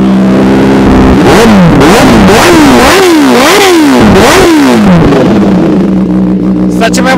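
A used Kawasaki ZX-10R sport motorcycle engine revs loudly again and again, pitch rising and falling in sharp sweeps before settling back to a rough idle.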